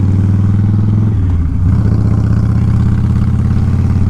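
A Harley-Davidson Softail Fatboy V-twin idling steadily after an oil change, a loud close rumbling throb with an even pulsing rhythm and a brief dip in the middle.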